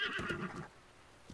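Horse in The Legend of Zelda: Breath of the Wild gives one fairly faint whinny that fades out, leaving near-silence with a soft thud at the end.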